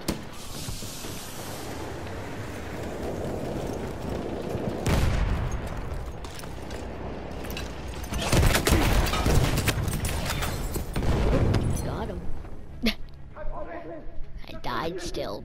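Rapid automatic gunfire in a Battlefield 1 match, bursts of shots rolling over a noisy battlefield with louder blasts partway through, while a player talks over the action.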